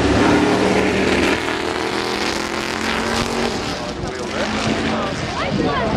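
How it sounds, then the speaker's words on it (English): A loud, deep V8 racing car engine roars past at the Goodwood Festival of Speed with a rising whine, while a commentator talks over the noise. "A wonderful sound of the V8 engine as well today."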